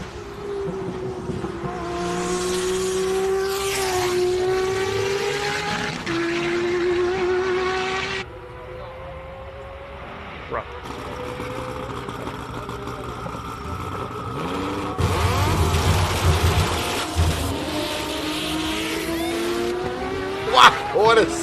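Race cars at the Simola Hillclimb blast past one after another, each engine rising and falling in pitch with gear changes and screaming howls, loud and close, with commentators talking over the action.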